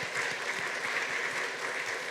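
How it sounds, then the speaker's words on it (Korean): A church congregation at a Sunday service claps together to welcome a new member, a brief, fairly soft wash of steady applause filling the hall. "우리 박수로 환영하겠습니다."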